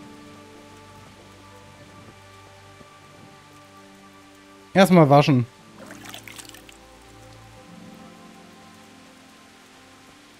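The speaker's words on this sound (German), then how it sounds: "Oh, es regnet." Rain falling in the medieval role-playing game Kingdom Come: Deliverance, a steady soft patter running throughout, with a voice speaking briefly over it partway through.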